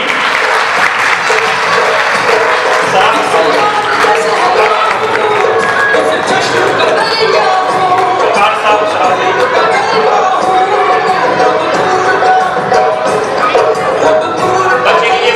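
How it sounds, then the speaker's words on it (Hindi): An audience at a school program applauds a first-position student with loud, sustained clapping that stays dense and even throughout, with crowd chatter mixed in. "बच्चे के लिए जबरदस्त तालियां।"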